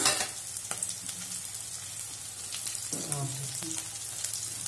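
Sliced beans and carrots frying in a pan for veg chow mein, a steady close sizzle with scattered scraping and stirring clicks throughout, no talking.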